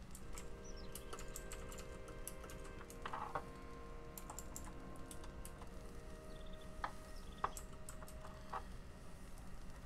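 Steady typing of notes on a computer keyboard, with rapid, close, light key clicks running throughout at a quiet, even level. No one speaks over it.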